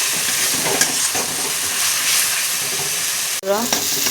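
Pointed gourd and prawn curry is stir-fried in a pan with a loud, close, continuous sizzle and repeated scraping of the spatula, briefly cut off near the end before the frying resumes.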